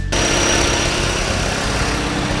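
A Hyundai Elantra engine, just revived after sitting dead and smoking from the exhaust, runs steadily at idle with a constant, fairly loud droning rumble throughout and no voices.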